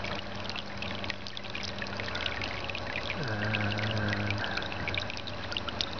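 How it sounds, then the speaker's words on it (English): Water pouring and churning in a gravitational vortex power demonstration, a steady close trickling and gurgling flow with a low hum underneath, overflowing the top and dripping out the side, with no one speaking. "the water will fill the thing and overflow the top"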